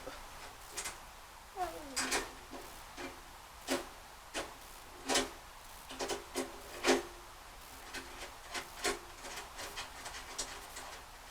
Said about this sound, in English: I'm going to take the wrench here and loosen up the 4 nuts off of here